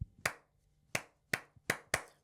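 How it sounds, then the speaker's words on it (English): Five sharp hand claps for a Grimsby football chant, spaced unevenly in a short rhythmic pattern, close and loud with no talk over them. "you basically clap like this"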